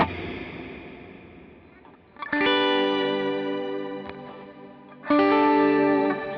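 An electric guitar played through a Plateau reverb on a Line 6 Helix rings out two strummed chords, each sustaining in a long, shimmering, washy tail, after a decaying earlier sound.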